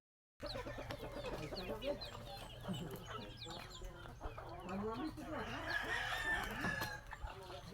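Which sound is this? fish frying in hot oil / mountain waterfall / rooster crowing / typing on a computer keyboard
rooster crowing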